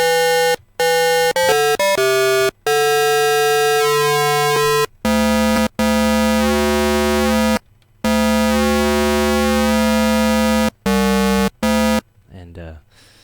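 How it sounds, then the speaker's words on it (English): A Roland JP-8080 synthesizer with triangle mod oscillating into a pulse wave plays bright, buzzy sustained tones in separate held notes with short gaps, the timbre shifting as the modulation sweeps. No voice is heard. "So it goes from a triangle to some sort of a pulse wave."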